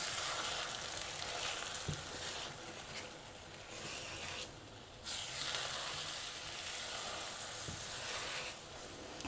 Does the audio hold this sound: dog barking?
no